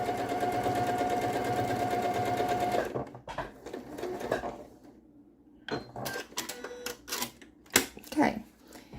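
Sewing machine stitching quilt fabric in a steady close whirr for about three seconds, then stopping, followed by clicks and fabric handling with a voice speaking intermittently.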